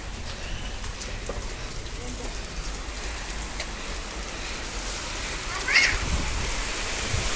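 Steady rain pours down outdoors in Dhaka during a storm, a dense hiss that holds constant throughout and swells slightly near the end.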